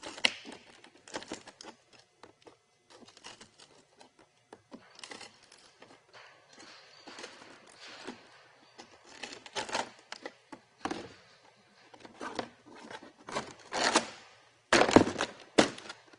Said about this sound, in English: now I snip and fold down a series of tabs that will soften the edge where it makes contact with the rubber boot